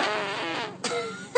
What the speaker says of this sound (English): Yoga fart.